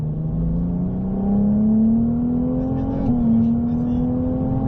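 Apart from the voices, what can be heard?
Ferrari 298 GTB 820 hp accelerating on circuit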